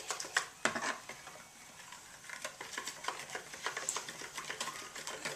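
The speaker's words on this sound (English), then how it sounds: "Anyway, so I'll give that a good mix." A spoon stirs hot wing sauce seasoned with cayenne pepper in a small bowl, quick quiet scraping and tapping strokes in an uneven rhythm, close and faint with no talk.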